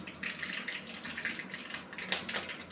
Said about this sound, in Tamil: இப்போ வந்து எண்ணெய் காஞ்சிருச்சு. கடுகு உளுத்தம் பருப்பை போட்டுக்கிறோம்.